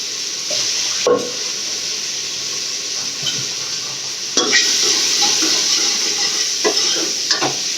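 Brinjal and drumstick pieces fry in a pan with a continuous hiss of sizzling oil. A few sharp scrapes of stirring cut through the sizzle at irregular intervals, heard close up with no talking.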